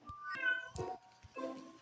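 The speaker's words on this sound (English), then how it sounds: "Ignore the meowing cat in the background." A cat meows three times in quick succession somewhere indoors, fairly soft and set back from the microphone, each call drawn out and tonal.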